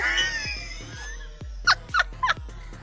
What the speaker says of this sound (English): Okay, the second cat has entered.